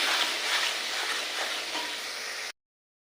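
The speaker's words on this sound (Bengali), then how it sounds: "আর দিয়ে দেবো একটু লঙ্কা গুঁড়ো দিয়ে ভালো করে মশলাটা কষিয়ে নিই।" Spice masala with turmeric and chilli powder fries in oil for mutton biryani, a steady close sizzle with soft stirring scrapes, ending abruptly after about two and a half seconds.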